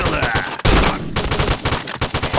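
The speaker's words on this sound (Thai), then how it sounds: "กูว่าไปยิงมีมี่ดีกว่า" Rapid game gunfire from Point Blank's zombie mode, dense bursts of shots crackling loud and close throughout, with one heavier blast partway through.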